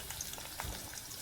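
Onions frying in hot oil with nigella seeds and chili, a soft sizzle with faint crackles and a light scrape of stirring, quiet and close.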